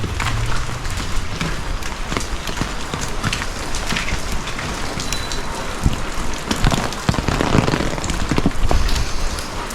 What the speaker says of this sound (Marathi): पण मंडळी पाऊस बघा मी छत्रीत आहे